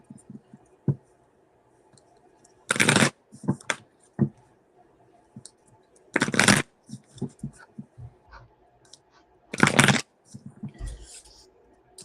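Cards being shuffled in three brisk riffling bursts, close by, separated by quieter clicks and taps.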